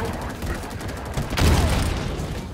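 Gunfire in the video game Halo Infinite: a loud burst of rapid shots swells in the middle and keeps rattling to the end over a dense game backdrop, with a voice briefly heard.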